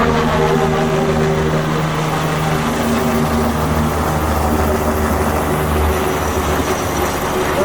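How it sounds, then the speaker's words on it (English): A hospital medical helicopter drones loudly overhead in Des Moines, its steady rotor and engine hum sustained from start to finish with no speech. "Mercy One Medical Hospital helicopter."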